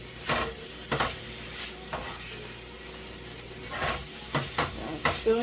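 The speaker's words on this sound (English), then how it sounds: "To saute it." Onion and garlic sauté in a pan with leftover caramelized chicken drippings, giving a steady low sizzle broken by repeated loud scrapes and stirs of a utensil against the pan, about one every second.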